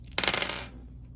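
Percentile dice from a Golem Arcana board game set clatter onto a table, a quick burst of sharp plastic clicks and rattles that fades within a second, close and alone.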